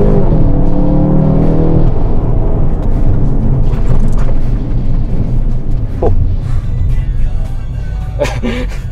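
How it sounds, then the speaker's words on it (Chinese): A Volkswagen Golf GTI MK8 accelerating hard from a standstill, with a loud deep engine roar that rises in pitch through the gears and then eases to a steadier drone. Faint voices are heard near the end. "所以我们先来试一下它的加速。"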